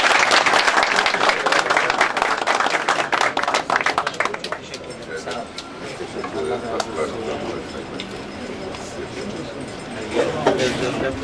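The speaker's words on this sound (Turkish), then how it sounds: "Onlara bir alkış rica edelim." An audience applauds musicians of Turkish classical music, dense, loud clapping at first that thins out and softens after a few seconds into scattered claps, with a voice faintly underneath.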